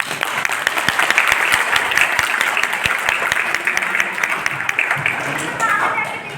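Sustained applause from a large crowd, dense and steady throughout with sharp individual claps standing out, fading slightly at the end.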